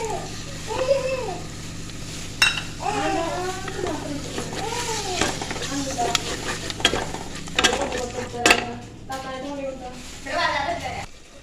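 Chicken with yogurt is stirred in a frying pan, giving a soft, continuous sizzle with scraping strokes while people talk over the cooking.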